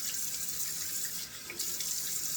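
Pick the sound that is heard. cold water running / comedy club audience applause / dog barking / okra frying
cold water running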